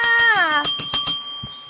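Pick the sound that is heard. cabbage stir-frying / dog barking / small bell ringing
small bell ringing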